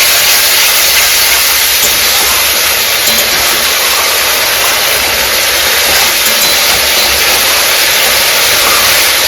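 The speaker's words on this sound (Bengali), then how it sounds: "আবার এই দুটোকে ভালো করে ভেজে নেবো তেলে" Loud, unbroken sizzling hiss of a spice paste with soaked cumin being fried in hot oil, close and steady throughout.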